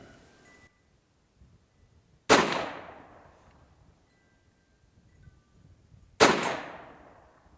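Two sharp, loud FN Five-seveN pistol shots at an outdoor range, fired at a 50-yard target about four seconds apart, each cracking suddenly and trailing off in a ringing echo with near silence between.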